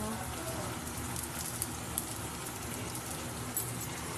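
Onions and torn green chilies sizzle in hot oil for egg biryani, a steady dense crackle and hiss with a few sharper pops, close and continuous.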